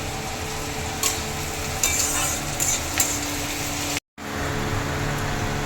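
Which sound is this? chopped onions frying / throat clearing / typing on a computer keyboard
chopped onions frying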